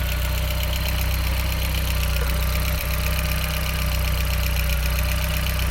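VW Corrado 1.8T engine idling steadily up close, a loud continuous rumble with a constant hum and faint rhythmic ticking, no speech over it.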